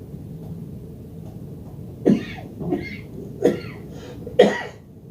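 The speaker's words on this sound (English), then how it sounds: "you got that tickle cough" Four short, tickly coughs come one after another with gaps between them, close and fairly loud against a quiet background.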